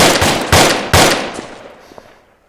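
Several sharp gunshot bursts ring out close by during a team shooting engagement, three loud reports in quick succession followed by fainter shots decaying into the distance, with no talking.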